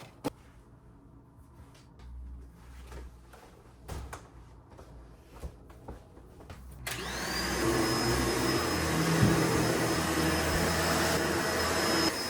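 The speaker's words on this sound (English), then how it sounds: "I'm just gonna clean up down here a little bit, and then I'm gonna vacuum" A vacuum cleaner switches on partway through and runs steadily over carpet, a loud broadband roar with a rising whine, after a stretch of quiet household knocks and shuffles.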